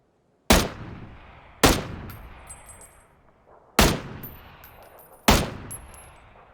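Four single gunshots ring out in the PUBG video game, each a sharp loud crack followed by a long decaying echo, spaced about a second or more apart with quiet between them.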